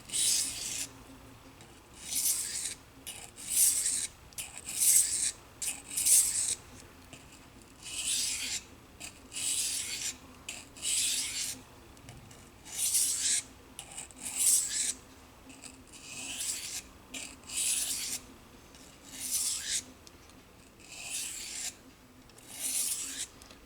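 Knife blade stroked back and forth on a sharpening stone with light pressure to refine the burr, a rhythmic series of gritty rasping scrapes, close and fairly quiet, each stroke lasting about a second with brief gaps.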